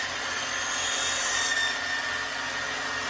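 Metal lathe running steadily as a boring bar cuts the core out of a size 15 nugget style ring, a continuous broadband machining whir with a high-pitched whine, close and even throughout.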